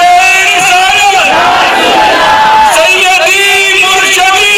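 A large crowd chants a loud unified response to religious slogans at a gathering in Faisalabad, a sustained roar of many voices filling the whole moment.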